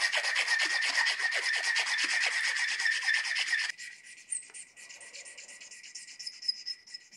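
A hand file rasps the rough edges of knife handle scales on a drop point hunting knife, in fast, steady back-and-forth strokes close up. The strokes stop partway, leaving faint scraping and light handling noises.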